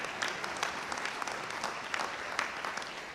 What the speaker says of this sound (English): Did we clap for Carl?